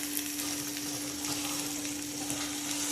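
Dried shrimp fry in a pan for Mangalore-style sukka, giving a steady close sizzle with light stirring scrapes and a faint hum underneath.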